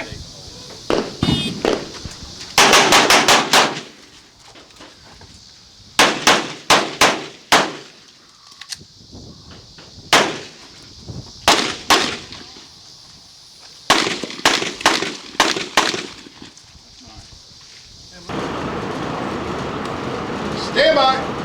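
Handgun fire on an IDPA practical shooting stage, with rapid clusters of loud sharp shots broken by pauses and reload gaps, then steady outdoor noise at the end.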